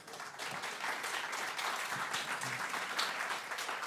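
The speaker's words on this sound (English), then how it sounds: "Can we give them a round of applause?" A crowd applauds steadily for several seconds at a live jazz chamber music performance, a dense wash of clapping heard from a short distance at moderate volume.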